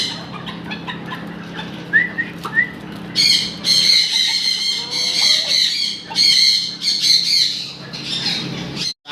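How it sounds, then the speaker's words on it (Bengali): A fancy-breed rooster at a farm calls out in a series of loud, raspy squawks and crowing bursts, close and prominent, with a few softer chirps before them. "আর এই হচ্ছে মোরগ"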